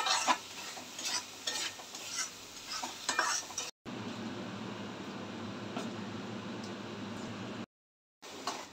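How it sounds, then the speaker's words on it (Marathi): Masala paste for a Maharashtrian chicken gravy is fried and stirred in a pan, giving steady close sizzling with scraping strokes of the stirring, broken by two short cuts to silence. "वाटप चांगलं परतून घेऊया।"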